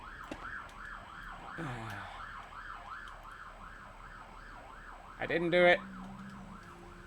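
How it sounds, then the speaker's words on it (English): An ambulance siren wails steadily through the whole stretch in repeating rising-and-falling cycles, heard at moderate distance, with brief voices and a burst of closer clatter and game noise near the end. "that one was an ambulance."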